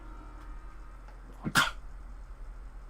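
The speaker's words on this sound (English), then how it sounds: "That was a wet sneeze." One short, wet sneeze bursts out close by midway through, quick and sharp against a quiet background, with no talking around it.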